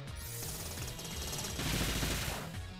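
Mirror Shot, an attack in Pokémon Y, plays as a dense, rapid rattle of repeated metallic bursts that runs through the whole stretch and swells louder near the end.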